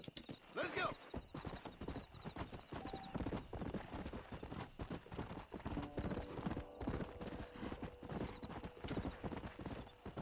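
Steady clip-clop of horse hooves trotting along in the video game Red Dead Redemption, with a brief whinny early on and game ambience humming underneath.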